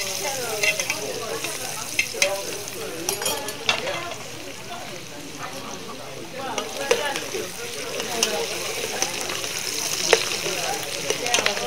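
Wild boar meat fries with vegetables in an oiled pan during a cooking class, a steady loud sizzle with scraping and stirring clatter throughout and voices talking underneath.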